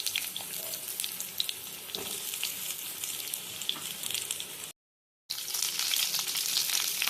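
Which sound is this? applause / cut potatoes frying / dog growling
cut potatoes frying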